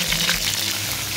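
Crab halves pan-frying with cooking wine and ginger, a steady wet hiss and sizzle filling the short moment with no voices.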